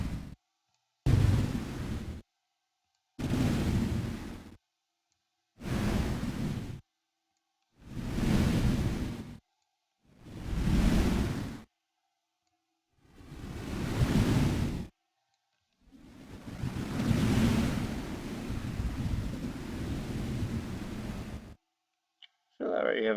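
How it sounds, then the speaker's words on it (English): Synthesized whooshing noise from Native Instruments Massive swells and fades in repeated slow waves, six short surges separated by silence, then one longer sustained wash, like wind and surf. "Almost kind of sounds like a wave at that point too."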